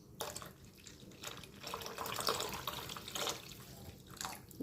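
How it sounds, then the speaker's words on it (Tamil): Water is poured into a pot while cooking fish curry, a steady splashing, running pour that swells and fades over several seconds, close by with no talk. "இப்போ இதில் வந்து தேவையான அளவு தண்ணி சேர்த்துக்குவோம்"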